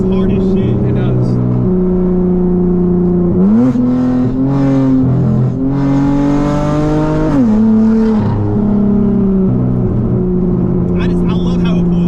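Tuned V6 Dodge Charger pulling hard under acceleration, engine note rising and dropping through gear changes for about twelve seconds, loud and close, with people talking over it.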